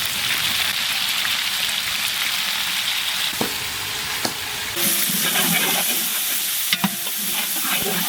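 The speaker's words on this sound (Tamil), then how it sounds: "வெங்காயம் நல்லா பொன்னிறமா வதங்கிடுச்சு" Onions sauté to golden in a large pan for Ambur mutton biryani, giving a loud continuous frying hiss with scattered stirring knocks and scrapes that grow busier toward the end.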